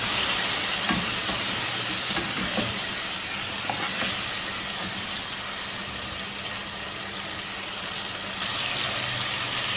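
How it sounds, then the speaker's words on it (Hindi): Spices are stirred into chicken aloo shorba in a pot, making a soft, continuous hissing simmer with faint, occasional stirring scrapes throughout. "मिक्स कर लेंगे अच्छी तरह से"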